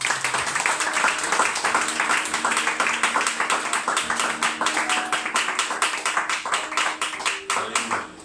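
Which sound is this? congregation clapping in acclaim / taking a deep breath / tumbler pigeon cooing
congregation clapping in acclaim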